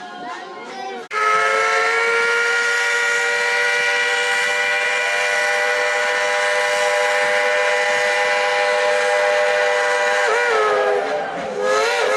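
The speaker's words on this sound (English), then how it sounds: "On three, real loud, blow the whistle." A loud Dollywood Express steam locomotive whistle in Pigeon Forge, Tennessee, blows one long, steady chord-like blast lasting about ten seconds, with a hissing edge and faint background voices before and after.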